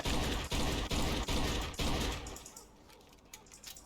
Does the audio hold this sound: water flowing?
no